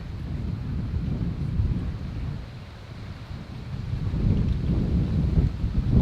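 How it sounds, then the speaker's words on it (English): Strong wind blows steadily by open water with whitecaps, a dense low roar with gusts swelling louder near the end, buffeting the microphone throughout with no talk. "The wind is strong right now."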